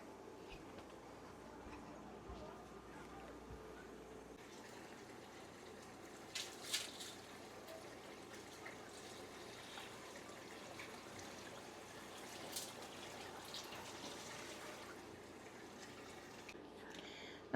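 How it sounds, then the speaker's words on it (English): Tap water trickles and pours into a cooking pot for beef broth, a faint, steady running-water wash with a few small clinks, heard alone. "I'm gonna have my oldest fill my pot with water"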